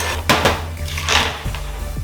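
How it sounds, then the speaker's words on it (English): Coconut macaroon batter being mixed in a bowl until foamy, with sharp clinks and scrapes of a utensil against the bowl in quick, irregular strokes, close and fairly loud. "We're gonna mix this until it becomes foamy white."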